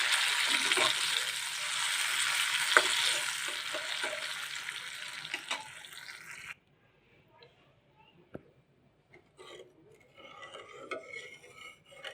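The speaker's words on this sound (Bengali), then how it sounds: "অনেক সময় ডাল দেওয়ার পরে ছিটকে ওঠে এই জন্য আমি চামচের সাহায্যে অল্প অল্প করে দিয়ে নিচ্ছি" Masoor lentils spooned bit by bit into hot oil sizzle and spatter loudly for several seconds, then cut off abruptly, leaving quiet clinks and faint stirring sounds, with a voice speaking over the cooking.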